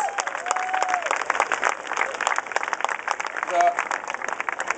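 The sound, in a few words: audience applause for kids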